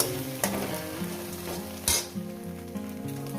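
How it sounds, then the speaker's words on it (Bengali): Pieces of masala omelette sizzle in oil in a pan, a steady close frying hiss punctuated by a couple of sharp spatula knocks and scrapes against the pan. "মিনিমাম এটাকে আরো মিনিট দুয়েক ধরে আমি এটাকে টুকরো করে ভেজে নেব"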